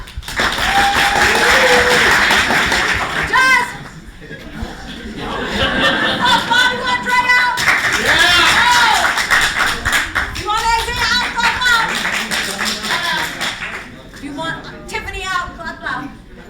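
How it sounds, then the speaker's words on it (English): A crowd at an improv comedy show in Seattle claps loudly to vote a performer out, a dense burst of applause that dips briefly, then swells again mixed with laughter, chuckles and cheering voices. "Clap loud if you want Audrey out"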